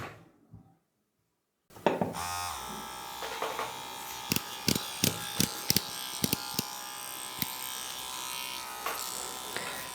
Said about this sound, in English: The tattoo machine has a little vibration and noise, but noise is not annoying.